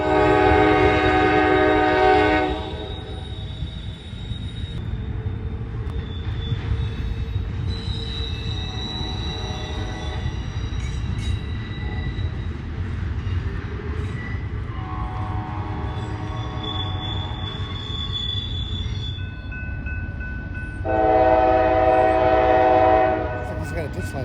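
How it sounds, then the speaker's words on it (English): An intermodal freight train rumbles past heading west out of a rail yard in Fostoria, Ohio, with steady wheel noise and squeal, its horn sounding loudly at the start and again near the end. "We saw an intermodal leaving Mormon Yard heading west."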